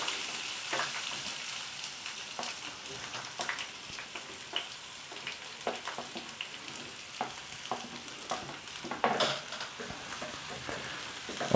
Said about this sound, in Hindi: इसमें पहले हम सब्ज़ियों को थोड़ा सा फ्राई करेंगे।